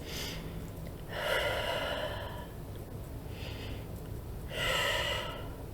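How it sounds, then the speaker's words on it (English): Slow deep breaths during a guided calming exercise: two long inhales and exhales, soft and close, airy and unhurried, with no talking. "So just hold your hands out, take 3 deep breaths."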